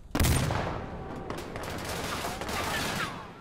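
Full-auto gunfire in the video game Insurgency: Sandstorm, a loud sustained burst of rapid shots opening with a heavy blast and continuing for several seconds, with no one talking over it.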